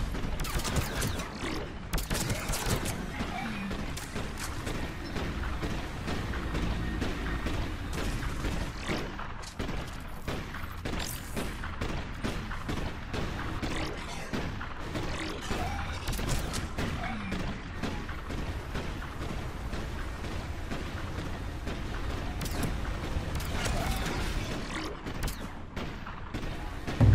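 Sustained gunfire from a firefight in the video game Mass Effect 3, dense overlapping shots and thuds running loud and continuous throughout with booms mixed in.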